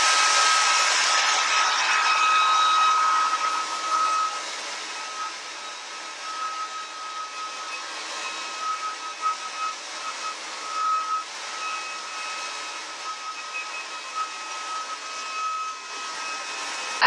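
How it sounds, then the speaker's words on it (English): Hair dryer blowing steadily on long hair held upside down, a continuous airy whoosh with a faint high whine, loudest at the start and then slightly muffled and wavering as it moves through the hair. "So the best way to do is blow dry it upside down like this."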